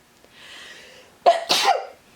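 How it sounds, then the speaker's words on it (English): A single sneeze, close and loud: a short breathy intake followed by a sharp burst and a brief trailing gasp, with quiet before it. "I'm gonna sneeze."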